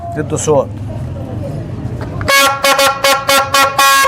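A person talks briefly, then a toy reed pipe sold at an Egyptian mawlid festival stall blows several loud, buzzing, nasal toots in quick bursts.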